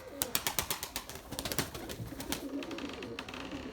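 Pigeons coo close by in soft repeated pulses, with sharp clattering and flapping noises over them at the start, in a pigeon loft during a flying session.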